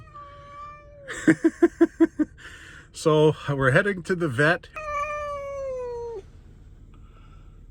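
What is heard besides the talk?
cat meowing in carrier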